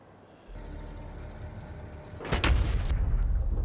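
Artillery fires in Factorio: a steady low mechanical hum gives way to a single heavy, booming shot with a crackling, rumbling tail, fairly loud and close, no voices.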